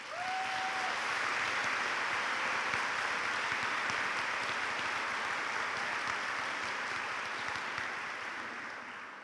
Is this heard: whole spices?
no